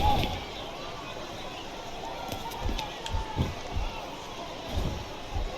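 A wrestling arena crowd in WWE SmackDown vs Raw 2007 cheers in a steady wash of noise, with surging swells and thumps, while commentators talk over it.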